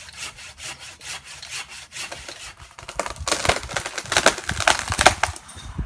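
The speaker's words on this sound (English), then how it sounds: "I'm going to take the pole saw, I'm going to cut the biggest part of it off first" A pole saw cuts through a large branch of a Tipuana tipu tree, with steady rhythmic rasping strokes on wood that grow louder and more forceful toward the end, heard up close and alone.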